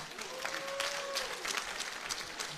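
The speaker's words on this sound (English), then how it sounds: "ask all the citizens who have gathered here and those watching us on TV to clap for you" A crowd applauds steadily at an outdoor industrial trade show in Namunkekera, Uganda, a dense patter of many hands clapping at moderate distance, with a faint tonal whistle briefly rising above it.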